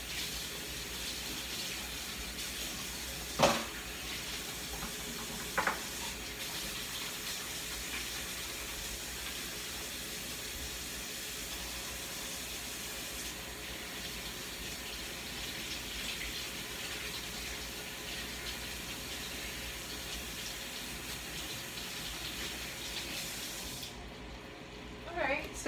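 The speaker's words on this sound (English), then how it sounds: "Let me wash my hands off." Water streams steadily from a kitchen tap as hands are washed, a soft continuous hiss with a couple of brief clinks of hands or dishes.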